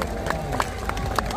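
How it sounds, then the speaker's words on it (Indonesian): An audience claps for a speaker at a political campaign rally in Bekasi, with scattered rhythmic claps over crowd noise and a loud voice talking. "Beri tepuk tangan untuk beliau."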